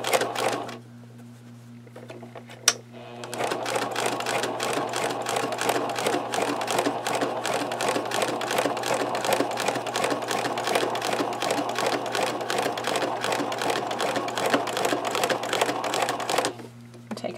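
A sewing machine stitches slowly through thick layers of denim with inside and outside pockets for a notebook cover, its rapid needle clatter running steadily for about thirteen seconds after a brief quiet start.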